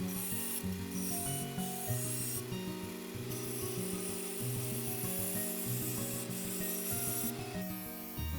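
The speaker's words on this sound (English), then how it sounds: "The homemade disc sander does a really good job of cleaning up these edges" Homemade disc sander cleaning up the edges of plywood discs, a near, steady motor whine with pitch shifting as the wood is pressed against the disc, repeated grinding passes.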